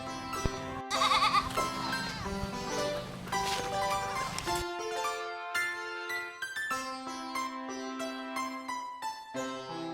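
Goat kids bleat on a semi-intensive goat farm, with wavering cries repeated at fairly low level over a steady tonal background.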